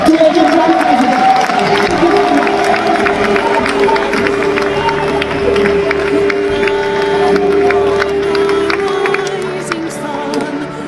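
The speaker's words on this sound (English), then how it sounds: "I would like us to give another hand of applause to the President" A large crowd claps and cheers for the President at a Biafran gathering, a loud, sustained roar of applause with music-like tones running underneath and a voice faintly audible.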